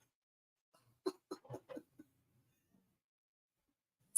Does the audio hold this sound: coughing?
yes